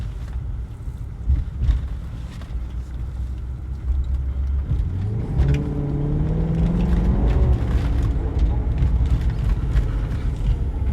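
A Maserati Quattroporte Sport GT drives along with a deep, steady engine drone and wind rush, and the engine note climbs clearly as the revs build midway before settling back.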